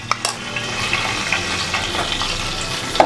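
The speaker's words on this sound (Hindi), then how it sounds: "सारी स्टिक्स को डिप कर करके फ्राई करेंगे। ऑयल हमारा गर्म हो रहा है।" Egg-dipped chicken tikka sticks fry in hot oil with a steady close-up sizzle and bubbling, plus a few light clinks of utensils, and no talking throughout.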